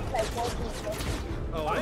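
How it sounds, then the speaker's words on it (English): Rapid bursts of gunfire from the Fortnite video game rattle continuously and loudly, overlapping with a voice talking and other game sounds. "That's shooting, Jonesy."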